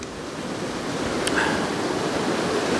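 Steady broadband rush of water flowing off the hills into a stream near Withypool, Somerset, continuous and fairly loud outdoors with no talking.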